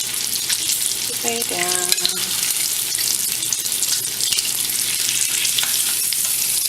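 Bacon sizzles loudly and continuously in a pan, a dense close crackle and spatter running throughout, with a brief spoken word and a few tonal sounds near the start.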